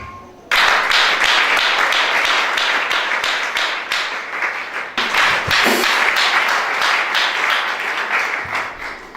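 A church congregation bursts into loud, sustained applause that swells suddenly and continues for several seconds, dense overlapping claps filling the hall, with a brief dip midway before the clapping carries on.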